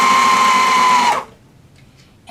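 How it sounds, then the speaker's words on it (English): Sewing machine stitching a seam while a bar stool seat is being reupholstered, a steady, loud motor hum lasting just over a second before it cuts off into near silence. "So I'll remove the pin, and I'll just go ahead and stitch."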